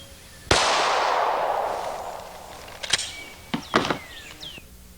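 A single loud, close shot from a full-size Glock .45 pistol with standard ball ammunition rings out and trails off in a long echoing decay, followed by several sharp clicks and clacks of handling.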